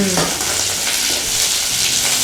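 Curry leaf rice ingredients roasting in a pan over a low flame, a steady close sizzle with soft stirring scrapes throughout and no talking.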